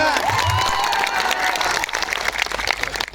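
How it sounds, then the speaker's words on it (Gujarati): A large crowd at a political rally in Zankhvav claps loudly and continuously, with dense applause and some cheering mixed in and voices carrying beneath it. "એમના માટે જોરદાર આપણે તાળીઓ પાડી લો."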